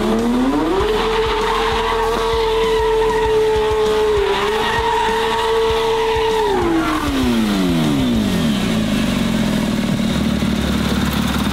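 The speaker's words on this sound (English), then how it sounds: "passenger rides doing donuts" A hypercar spins donuts with a loud, sustained engine drone that holds, dips briefly, then falls away as tires squeal and skid continuously, close and dominant; no talk.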